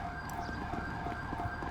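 Wailing fire engine siren in GTA V, continuous and fairly faint, mixed with low traffic rumble and game ambience.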